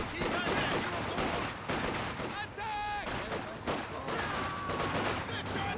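Small-arms fire in Company of Heroes 2 rattles as steady, layered rifle and machine-gun bursts with occasional heavier blasts, while a commentator talks over the continuous battle noise.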